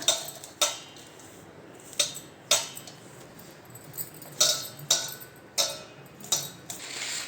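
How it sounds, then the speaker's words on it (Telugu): A spoon scrapes and clinks against a bowl in an uneven rhythm of sharp taps while mustard powder is mixed into bitter gourd chutney, quiet and close, with no talk. "ఇప్పుడు మనం మంచిగా కలుపుకుందాం"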